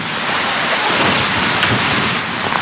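A large load of water dumped on a film set, a loud, close, continuous rushing splash that holds steady for a couple of seconds.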